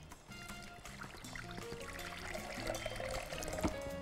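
Water is poured into a cooking pot to boil fruit with its peel, a soft, close trickling and splashing that grows slightly fuller toward the end, quiet and without talk.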